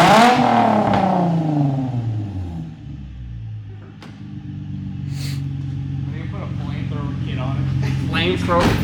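A Nissan 350Z with a new Y-pipe exhaust revs up sharply, then settles into a raspy, rumbling idle close by, with people talking over the engine.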